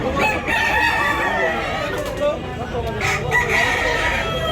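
Many roosters crow over one another at a crowded spot in Tabunok, Talisay, Cebu, overlapping calls near and far against a busy background with some voices.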